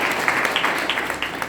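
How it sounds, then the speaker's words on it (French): Applause from mourners during a funeral homily in Foundiougne, a steady, moderately loud patter of many hands clapping, with a few sharper claps standing out. "applaudissons pour lui"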